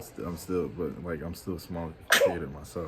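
A short, sharp sneeze bursts out in the middle of someone's steady, ongoing talking, standing out briefly above the voice.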